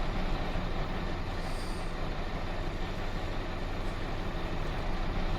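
Farming Simulator 19 tractor engines drone steadily in a low, continuous rumble, with no talk over it.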